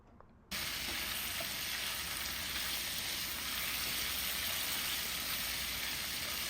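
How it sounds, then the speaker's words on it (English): Shrimp searing in a hot pan for shrimp scampi, a steady dense sizzle that starts abruptly after a brief quiet moment and holds at an even, close level throughout with no talking. "we're going to cook our shrimp all the way through"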